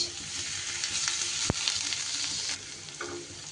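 Steady, crackling sizzle of chopped ginger frying in hot oil, continuous and close, with one sharp clink of a utensil partway through and faint stirring sounds.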